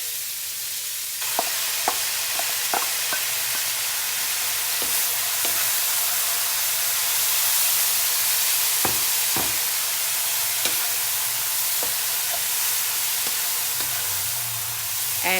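Bean sprouts and garlic stir-frying in a hot pan, giving a continuous loud sizzle broken by frequent sharp scrapes and clinks of a utensil stirring.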